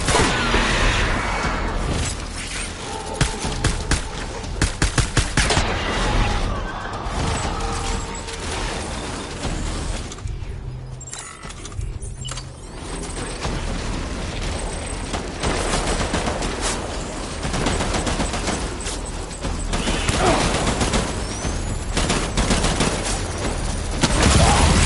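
Sustained bursts of video game gunfire in Death Stranding, rapid automatic fire and mechanical clatter running loud and dense through most of the stretch, with a brief lull near the middle before the firing resumes.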